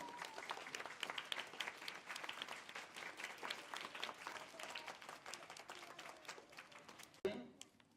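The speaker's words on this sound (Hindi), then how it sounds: "पालक और बालक के लिए दोनों के लिए एक बार जोरदार ताली बजाएं।" Sustained applause from an audience at a primary school award ceremony in Borsi Bhatha, Durg, dense steady clapping filling the room for several seconds before cutting off with a sharp knock near the end.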